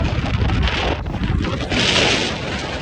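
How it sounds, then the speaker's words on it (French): Heavy wind buffets the microphone in rough, rumbling gusts while riding a NAVEE N65i electric scooter at sunset, with a brief dip midway before the roar picks up again. "oh le vent les gars, ça doit être un enfer."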